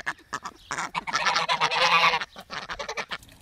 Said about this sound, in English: The goose is very angry with me.